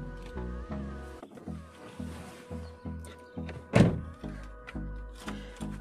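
A Renault Triber car engine is started, with a rhythmic series of low, thumping pulses and a brief louder burst partway through, heard close up with no talking.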